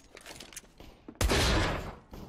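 A single heavy gunshot bursts out in a shooter video game, loud and close, followed by a ringing decay over about a second, with faint game sounds beforehand.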